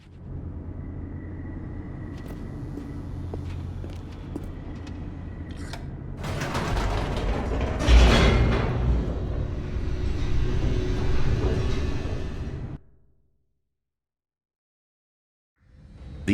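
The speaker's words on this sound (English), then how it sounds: "The elevator raced downward" An elevator in The Stanley Parable descends with a steady low mechanical rumble that swells into a louder rushing roar midway, then cuts off abruptly into silence before a faint return.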